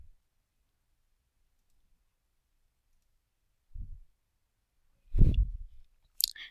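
A computer mouse clicks in ArcGIS software on a desktop, giving a few sparse, faint, isolated clicks separated by near silence.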